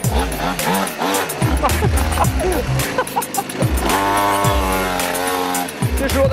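A Ferrari in a video game skids and crashes, tires squealing in rising and falling sweeps with revving engine tones and impact noises, loud and close throughout.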